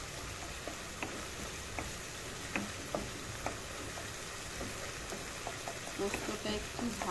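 Frying poppy seed paste blended with green chilli, salt, sugar and turmeric crackles steadily in a pan for prawn posto curry, with sharp intermittent clicks of a spoon stirring and scraping throughout.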